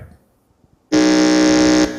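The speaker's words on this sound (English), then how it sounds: "Let me hear your buzzer." A quiz contestant's buzzer sounds once, loud and close, a sustained harsh electronic tone lasting about a second after near silence, in a regional school quiz qualifier.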